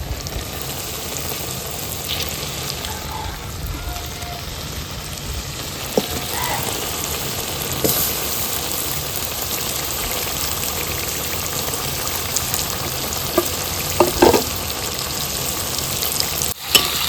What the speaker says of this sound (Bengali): মাংসটাকে ভালো করে কষিয়ে নিচ্ছি।